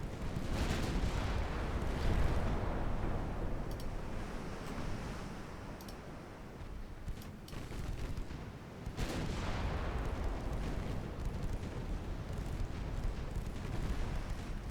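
Naval guns of 3-inch calibre firing in a Brazilian campaign strategy game, a continuous, rumbling barrage of booming shots with surf-like wash, loud and dense throughout with a brief lull midway.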